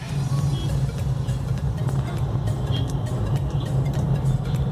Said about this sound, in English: Facing quite a bit of traffic.